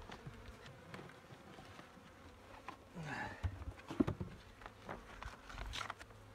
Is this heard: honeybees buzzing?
yes